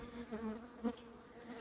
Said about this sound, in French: Il y a des abeilles par terre